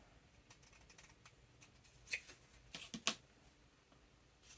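Scissors trimming card-stock backgrounds for a handmade Valentine's card, heard as a few quiet, close snips clustered together over soft room tone.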